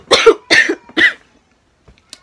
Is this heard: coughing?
yes